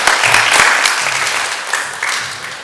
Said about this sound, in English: I just want to give a round of applause for everybody who made this